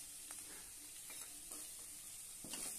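A pan of food being sautéed with salt and crushed peanuts, stirred in a steady sizzle with several short scraping strokes of a spoon, close and moderately quiet throughout.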